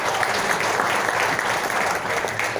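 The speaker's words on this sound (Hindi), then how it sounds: "जोरदार तालियां" Loud audience applause, a dense, steady wash of clapping from a large crowd that holds evenly from start to finish.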